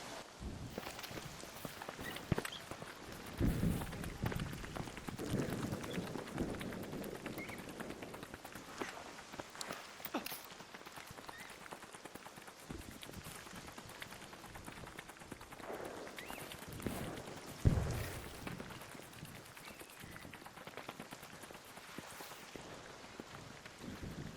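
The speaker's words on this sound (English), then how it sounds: "So enjoy the rain sounds." Rain falls steadily in the video game Arc Raiders, a soft continuous patter with occasional footsteps and scattered thuds, fairly quiet and without talk.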